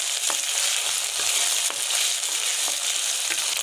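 Ginger garlic paste sizzles steadily in a hot pan, with soft scraping strokes of a spoon stirring it every half second or so, close and continuous with no talk.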